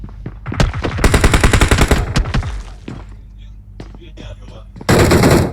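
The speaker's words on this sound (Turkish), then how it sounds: "Bir de zıplayarak ateş ediyor be." Rapid automatic gunfire from a character jumping and shooting in a kung fu–themed video game update comes in dense, loud bursts, pauses briefly, then resumes in a final burst, with faint game noises in the gaps.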